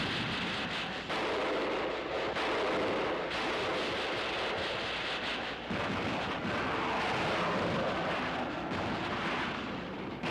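Loud, continuous roaring and crackling like fire and explosions, with sudden cuts and bursts, accompany a fighter plane struck in midair in the 1955 Godzilla Raids Again film.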